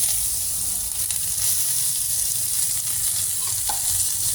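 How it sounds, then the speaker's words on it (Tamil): Onions sizzle and crackle steadily while sautéing in a hot pan, close and continuous, with occasional stirring. "பச்சை வாசனை போகிற வரைக்கும் நல்லா வதக்கலாம்"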